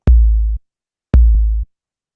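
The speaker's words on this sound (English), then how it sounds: "so that's kick drum" Two deep, boomy kick drum hits programmed in EarSketch, each ringing about half a second with a low sustained thump, spaced roughly a second apart with silence between.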